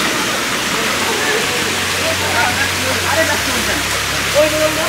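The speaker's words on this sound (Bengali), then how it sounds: "দেখতে পাচ্ছেন ঝর্ণা, ঝর্ণার ঝুমঝুম শব্দ শোনা যাচ্ছে।" Steady, dense rush of a hillside waterfall on the trail up Chandranath Hill, a broad continuous roar filling the scene at close range without pause.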